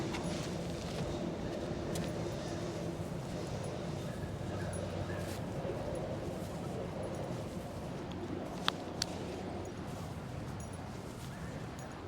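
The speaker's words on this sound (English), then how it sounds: "This dog's enjoying itself here." A dog enjoying itself outdoors on a street among blooming jacarandas, giving faint playful yips and whimpers against steady crowd and traffic noise, with a couple of brief sharp sounds near the end.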